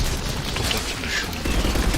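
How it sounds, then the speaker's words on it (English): Heavy machine gun fire in the Mass Effect 3 video game, a dense, continuous rattle of shots and booms with no pauses across the whole stretch. "Хороший пулеметик все-таки у меня. Просто отличный."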